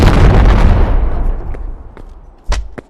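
A rocket-propelled grenade blast in the VR game Animal Company bursts loudly and rolls off into a fading rumble, followed by a few sharp pops and a louder crack with a brief tail near the end.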